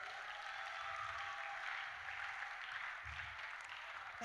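Congregation applauding for the Lord at a church seminar, steady clapping from a large crowd that carries on evenly throughout, with faint voices and thuds underneath.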